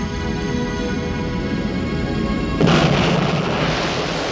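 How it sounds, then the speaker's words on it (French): A Big Bang explosion sound effect: a dense, heavy rumbling roar that swells into a louder, brighter blast partway through and keeps thundering to the end, with no voices. "une explosion d'une puissance inimaginable"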